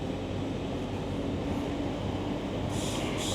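A passenger train runs along the tracks, heard from inside as a continuous low rumble with a steady rolling hum and a faint brief higher hiss near the end, with no voices.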